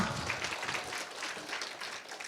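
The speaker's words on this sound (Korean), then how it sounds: "그 멋진 강의 해준 민주 리더에게도 박수 한번 쳐주세요" Light applause from a camp concert audience, a steady patter of hand claps at moderate level throughout, somewhat thin and distant, with no voices over it.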